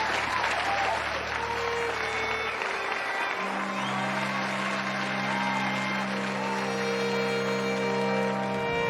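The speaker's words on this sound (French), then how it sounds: "Sous les acclamations de la foule" A crowd cheers and applauds continuously at close range, dense clapping throughout with sustained musical tones layered underneath.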